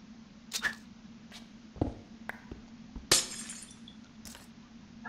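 Creep crystal ore being smashed in the Minecraft video game, heard as four sharp, glassy crunching hits spaced a second or more apart over a quiet, low game hum.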